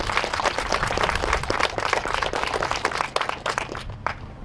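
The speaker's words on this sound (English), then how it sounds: "So I just want to really quickly give a round of applause for that." An audience at a community counseling center open house and building dedication claps in a dense, steady round of applause for several seconds, tapering off toward the end.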